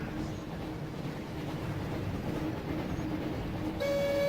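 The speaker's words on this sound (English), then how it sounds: "Of course you found the train." A train rumbling past in the Harry Potter and the Chamber of Secrets PS1 video game, a low steady rolling drone with a sharp tonal horn blast entering near the end.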